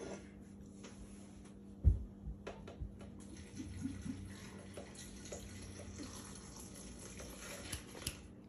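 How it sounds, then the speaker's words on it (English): Milk pours into a cup over scoops of vanilla ice cream for a purple Grimace shake, a soft liquid splash and gurgle with a few close clunks, fairly quiet, no talking. "and then you pour the milk in."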